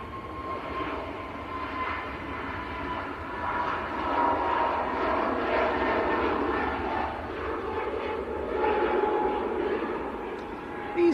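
An EasyJet airliner passes at Manchester Airport, a faint broad jet roar that swells and lingers in the distance, with people talking quietly in the background.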